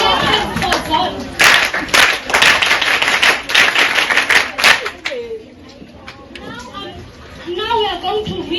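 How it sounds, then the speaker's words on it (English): Schoolchildren at a school assembly burst into loud, ragged clapping for several seconds amid excited kids' chatter, then the applause fades out and children's voices and an adult's speech carry on. "Let's clap for God."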